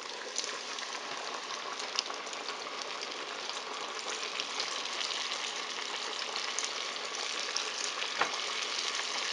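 Battered fish in hush puppy mix crackles steadily in a hot skillet, a dense, even sizzle close by with a few sharper pops, with no talking over it.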